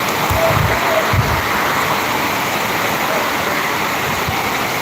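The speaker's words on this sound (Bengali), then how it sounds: "এত পরিমাণে বৃষ্টি হচ্ছে" Heavy rain pours in a dense, unbroken roar that holds steady throughout.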